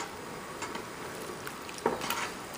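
Noodles for sweet and sour shrimp stirred in a hot pan, a soft continuous sizzle with light utensil clinks and scrapes, close and moderately quiet, no talk.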